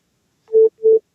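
Two short, steady electronic telephone tones ring out one after the other in silence, loud and clean, as a phone call connects.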